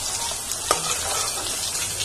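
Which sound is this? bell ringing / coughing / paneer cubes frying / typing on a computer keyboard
paneer cubes frying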